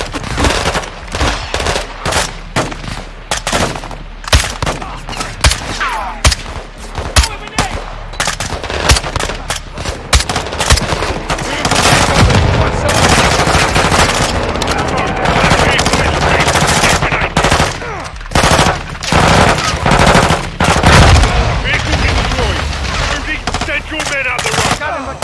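Machine-gun cover fire in Call of Duty Modern Warfare 2, with loud, rapid bursts of automatic gunfire that ring out close and keep repeating, then turn into sustained, dense shooting.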